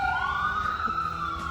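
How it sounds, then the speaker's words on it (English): Police car sirens sound out front on a suburban street: one wailing tone that sweeps upward, then holds a steady pitch, heard at moderate distance with no talk over it. "You can hear the police cars out front"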